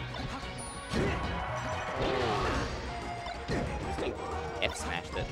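A forward smash attack landing in Super Smash Bros. Melee doubles, a sharp crashing hit amid game sounds and excited commentary talking over it.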